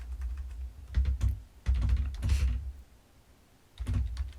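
Keys clatter on a computer keyboard in a few quick bursts, separated by brief pauses, close up with no voices.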